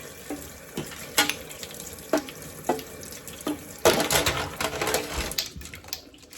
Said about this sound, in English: So I'm gonna add my water.